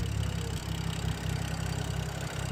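A BMW F10 sits at a rough idle, its engine giving a steady low, uneven rumble with a slight pulsing irregularity, heard close and alone without any talk.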